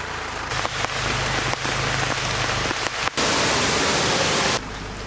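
Rain pours hard and close during a monsoon off-road ride through hill forest, a dense steady hiss of drops hitting surfaces, broken by a few brief dips and thumps, and swelling louder near the end.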